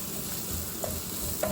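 Finely chopped carrots stir-frying in a pan for vegetable noodles make a close, continuous sizzle, broken by a couple of short utensil scrapes against the pan.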